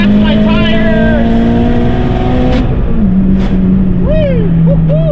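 A tuned Mazdaspeed 3 pulls hard from low revs, engine droning and climbing in pitch, then a gear change drops it and it climbs again. Squealing tire chirps come through near the end, with excited voices over the engine.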